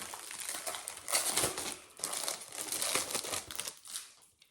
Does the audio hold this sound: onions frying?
no